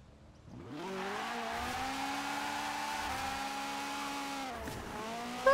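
Ferrari GTO supercar in Forza Horizon 4 accelerating from a quiet start into a sustained high engine note that rises and shifts pitch, loud and continuous with no talking.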